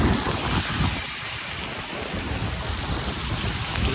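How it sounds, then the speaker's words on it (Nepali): Water spraying and splashing while cycling in the rain on Kabilas, Chitwan, Nepal, a loud dense rushing hiss with low rumbling wind buffets, constant throughout and without voices. "पछाडिबाट पनि पानी छेपिरहेछ, अगाडिबाट पनि"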